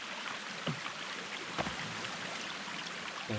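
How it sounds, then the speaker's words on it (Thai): A waterfall in the forest of the survival game The Forest, a steady broadband rush of falling water filling the whole stretch, with a few faint knocks over it and no talk. "น้ำตก โอ้โห"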